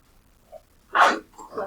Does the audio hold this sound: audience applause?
no